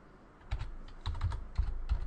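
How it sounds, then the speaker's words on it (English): Keys clack on a computer keyboard as a short command is typed, a few quick irregular clusters of close, crisp taps over a quiet room. "So I'm going to type CLS to clear the screen."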